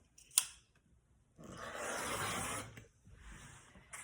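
Scissors cutting a strip of quilt fabric, a sharp snip followed by a longer rasping slice through the cloth and a shorter cut after it, close and quiet.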